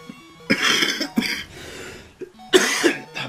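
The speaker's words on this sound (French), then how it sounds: "ça fait 5 jours que je tousse" A man coughs in several harsh bursts, close and loud, with short pauses of breathy throat noise between the fits, during a commentated Pokémon game session.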